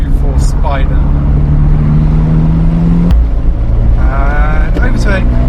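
An Abarth 124 Spider's 1.4 engine drones loudly and climbs in pitch, drops sharply at a gear change, then rises again, with brief rising whines layered over the steady engine note.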